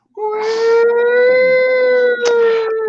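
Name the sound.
ambulance siren sound effect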